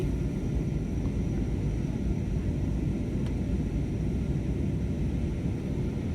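A steady, broad engine roar fills the cabin of a plane in flight from Hyderabad to Mumbai just after takeoff at dawn, constant and even throughout, with no talking.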